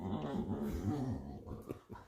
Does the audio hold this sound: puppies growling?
yes